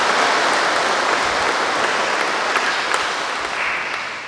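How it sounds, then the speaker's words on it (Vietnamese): Sustained applause from a parish congregation at a Catholic feast-day Mass for Saint Joseph, honouring their priest; a dense, steady wash of many hands clapping at even loudness for about four seconds, tapering slightly at the end. "Một tràng pháo tay để chúng ta mừng cha."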